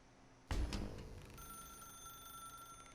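A telephone rings in the video game The Stanley Parable: one loud, close, bell-like ring that starts abruptly and then fades into a lingering metallic tone, with no talk.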